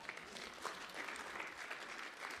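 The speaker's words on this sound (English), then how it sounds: "we can clap for that" A church congregation claps steadily for a couple of seconds, a soft, even patter of many hands heard from a distance.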